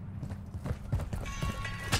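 Horse hooves clip-clopping in a multiplayer shooter video game, a quick uneven run of hoof knocks at moderate volume, with a brief higher burst near the end.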